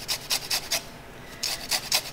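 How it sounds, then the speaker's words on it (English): A lime is zested on a grater in quick rhythmic scraping strokes, a burst of four, a short pause, then another run of strokes, close and fairly soft. "So I'm gonna do a bunch of zest for about"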